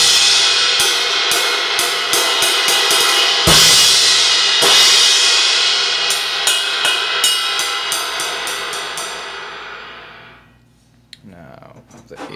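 An 18-inch Zildjian K EFX crash cymbal struck repeatedly, bright shimmering hits blending into a sustained wash that slowly decays into quiet, with a few softer taps near the end.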